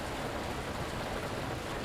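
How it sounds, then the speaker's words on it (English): Steady, loud rain in the video game Fernbus Simulator, a dense continuous hiss of drops drumming on surfaces, heard alone with no talking. "Again, with the bloody rain."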